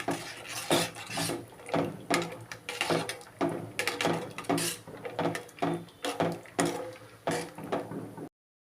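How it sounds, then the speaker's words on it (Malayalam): Butter pasta boiling in a pot is stirred with steady, rhythmic scraping strokes, roughly two per second, close and fairly loud with no talking. "ഇനി നമുക്ക് നല്ലപോലെ ഒന്ന് ഇളക്കി കൊടുക്കണം"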